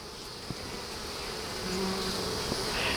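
Honeybees hum continuously in a bee yard around an open hive frame holding pollen and nectar, a dense steady drone at moderate distance with a few individual bees passing nearer.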